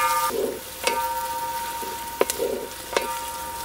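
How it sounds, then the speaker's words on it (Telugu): Onion pieces and curry leaves fry in a pan, a soft sizzle broken by a few sharp clicks of a spoon against the pan at irregular intervals, with a faint background tone and no voices. "ఈ ఉల్లిపాయ ముక్కలు బాగా బ్రౌన్ కలర్ అయ్యే వరకు వేయించుకోవాలి."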